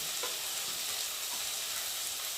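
Potato and eggplant chunks frying in oil in a pan, a steady even hiss of sizzling that stays constant throughout with no voices.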